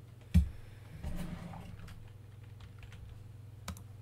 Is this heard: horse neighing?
no